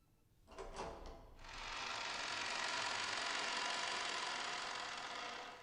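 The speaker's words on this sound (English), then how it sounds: "Genji unlocked the door." A door unlocks and swings open as a sound effect in the Umineko When They Cry visual novel: a brief metallic click and rattle, then a sustained loud bright wash of sound that holds steady to the end, with no voices.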